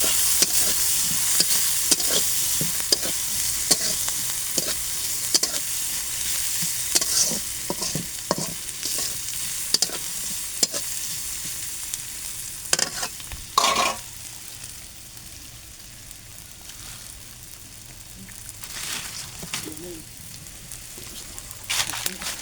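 Chickpeas and potatoes being fried and stirred in oil in a pan, with a steady sizzle and repeated scraping stirs throughout, loud and close, easing off toward the end.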